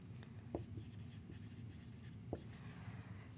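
A pen or marker scratches out a bar model for a maths word problem in short bursts of close, dry strokes, with a couple of light taps on the surface. No talking is heard.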